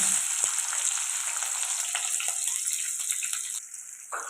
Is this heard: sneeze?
no